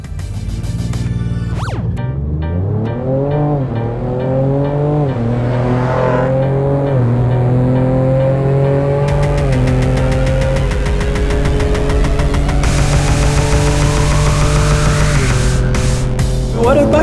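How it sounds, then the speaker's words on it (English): A Ford Ranger Raptor pickup with a twin-turbo V6 of nearly 300 kilowatts charging up the Simola Hillclimb, engine revving loudly through a rising pitch, dipping at gear changes, then climbing again at full throttle nearby. "300 kilowatts in a V6 turbocharged bakkie"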